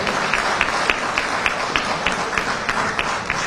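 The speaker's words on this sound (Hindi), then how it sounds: "जोरदार ताली बजाओ।" A crowd of Indian expatriates at a meeting in Dubai claps in a sustained, dense wash, with sharper individual claps standing out regularly. Applause continues steadily throughout, moderately loud and close.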